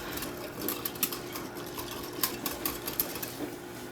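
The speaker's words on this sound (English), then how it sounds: "So we're just going to slowly dump all this in and then just start whisking it in." Quick, light tapping of a whisk stirring brown sugar into liquid for pretzel dough, a fast irregular clatter against the bowl, soft and close, with no talking.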